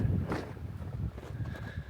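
Strong wind on a snowy mountain top, a low rushing roar buffeting the microphone in uneven gusts, close and steady throughout.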